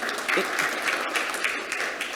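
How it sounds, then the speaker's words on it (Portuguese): Steady applause from a room of people at a paving industry event, a continuous clatter of many hands clapping at even loudness throughout. "Uma salva de palmas"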